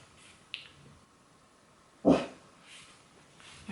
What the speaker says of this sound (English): My dog's still barking.